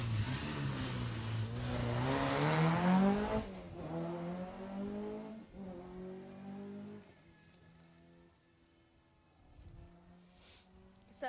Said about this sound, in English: So we'll see if they've sorted themselves out now as the next car approaches.